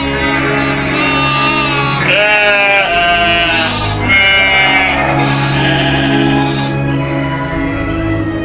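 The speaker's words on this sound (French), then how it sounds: "Il a emmené le troupeau sur la colline." A flock of sheep bleats in a chorus of overlapping, wavering calls, loud and close, with several animals crying at once and one bleat following another for the length of the clip.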